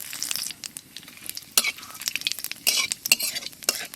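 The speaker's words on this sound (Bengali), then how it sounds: "জিরে আর তেজপাতা একসাথে দিয়ে দেবো।" Cumin seeds and bay leaves hit hot oil in a pan for a river silver fish curry, crackling and sizzling with sharp spitting bursts and a few spoon scrapes, close and alone without talk.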